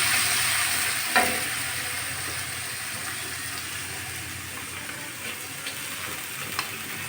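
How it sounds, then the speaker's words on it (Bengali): Soaked spiced lentils frying in smoking-hot oil in a wok, a steady, loud, dense sizzle that runs throughout, with a few faint utensil taps and clicks scattered over it. "এখন আমি এই যে ভিজে রেখা মশলা ডালগুলো তেলের ভিতর দিয়ে দিচ্ছি"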